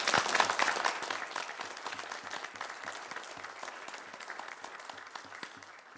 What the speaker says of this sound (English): please stand so we can give you an applause here